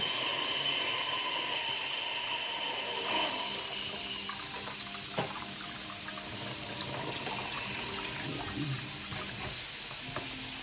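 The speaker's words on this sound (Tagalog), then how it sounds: "bubhusan lang natin ng malamig na tubig" Cold water pouring steadily over a hot pressure cooker in a sink to release its steam, a continuous splashing wash of water with a few clanks of metal, close by and with no talking.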